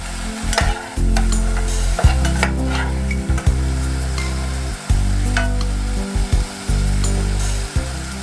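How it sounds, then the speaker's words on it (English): Mushrooms fry in a pan for a one-pot mushroom spinach pasta, giving a loud, continuous close sizzle with a low hum underneath, broken by repeated scraping stir strokes and brief knocks. "Let them fry for about 5 minutes, stirring from time to time."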